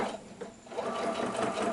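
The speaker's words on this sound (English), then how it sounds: "you should not have any problem with the machine to sew it through" Sewing machine running steadily as it stitches through a soft, slightly bulky quilt block for a Christmas tree skirt, a close, continuous mechanical whir with no talk.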